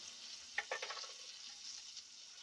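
Filet mignon searing in butter and oil in a pan, a continuous hissing sizzle with a brief burst of louder spattering and crackle early on, settling into a steady, fairly soft fry.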